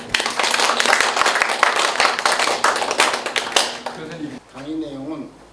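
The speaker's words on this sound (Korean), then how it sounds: "우리 홍 교수님 박수로 맞이해 주시면 감사합니다" An audience at a university church Bible lecture claps to welcome Professor Hong, a dense burst of close hand claps lasting about four seconds before fading into someone speaking.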